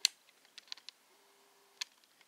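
Sparse, quiet keystrokes click on an external keyboard connected by OTG cable to a Samsung Galaxy Tab, a few separate taps with one sharper click near the end and no talk.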